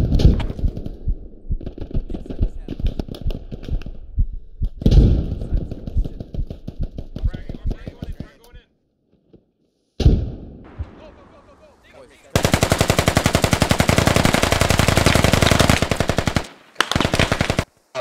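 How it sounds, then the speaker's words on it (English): Automatic rifle and machine-gun bursts in the military shooter Squad, rapid loud volleys near and far with brief pauses, then a long sustained stretch of fire, under occasional voice chat. "I'm getting shot from friendlies and I'm shooting friendlies"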